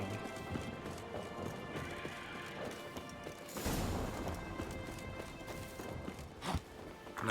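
Hooves of a horse in The Witcher 3, a steady clip-clop of footsteps at moderate distance with a louder crash-like burst midway and a brief whinny-like sound near the end, no voices.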